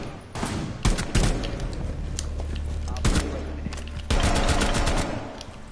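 Gunfire in a shooter video game during aim practice, with rapid sharp shots and bursts in clusters across the clip over a steady game background hum, close and loud.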